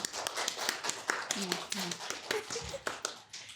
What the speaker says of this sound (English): let's give her another round of applause for being great today